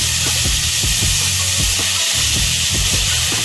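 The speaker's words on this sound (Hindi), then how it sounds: "भूनते जाएं अच्छी तरह" Noodles stir-fried in a pan give a steady, loud broadband sizzle and steam hiss, with a low rumble and irregular soft scrapes of stirring throughout.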